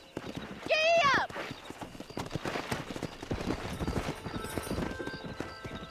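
Horse hoofbeats clip-clop under a rider in the Red Dead Redemption video game on Xbox One X, a loud whinny rising near the start, then steady galloping rhythm continuing with a voice speaking over it.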